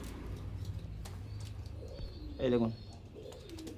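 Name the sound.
pigeons cooing in a loft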